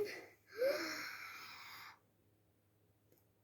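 A single deep breath, a gasping intake followed by a long, airy exhale lasting over a second, close and quiet, then near silence.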